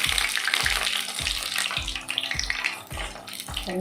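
Paneer frying in hot oil, a dense bubbling sizzle with a regular rhythmic thump about every half second, up close and fairly loud throughout.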